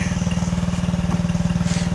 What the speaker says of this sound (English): Here's a cold start of the uh, two-stroke Briggs & Stratton on a uh, John Deere deck.